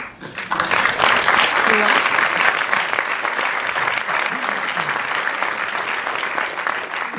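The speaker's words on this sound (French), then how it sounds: "je voudrais qu'on l'applaudisse" Audience at a French documentary premiere screening breaks into loud, sustained applause that swells quickly and holds steady, dense and close, with no pause throughout.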